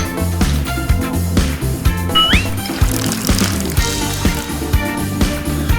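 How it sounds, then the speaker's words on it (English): Orange cheese powder drink pours back into a bottle, a close, gurgling stream of liquid running steadily for several seconds. "Just stir it up and then pour it back into the bottle."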